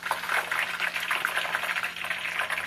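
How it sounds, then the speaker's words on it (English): French fries sizzling in oil heated to 160, a steady dense crackle and hiss that runs without a break at close range. "I'm just frying these fries up"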